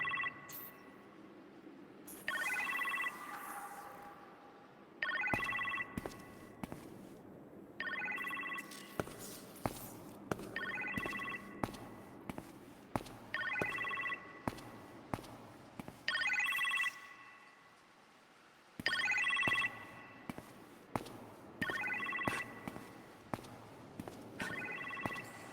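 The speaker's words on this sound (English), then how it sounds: "You appear to have a phone call in the kitchen" Inside the kitchen in the Iron Man VR game, a telephone rings in repeated bursts, each ring clear and close, separated by short pauses, alongside scattered sharp clicks and taps with no voices.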